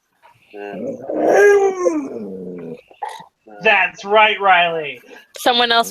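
A pet husky makes howling, growling vocal sounds in a few bursts, close and fairly loud, alternating with people talking over and between them.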